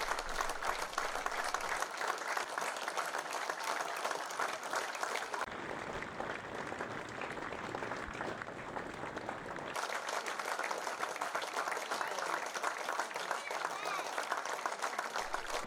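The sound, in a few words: a minute's applause by football crowd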